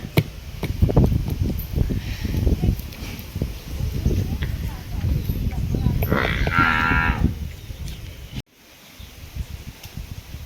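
A buffalo moos loudly nearby during milking: a long, low bellow rises midway through, with a person talking and rustling and shuffling around it.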